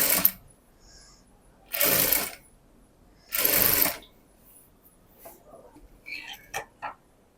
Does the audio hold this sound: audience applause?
no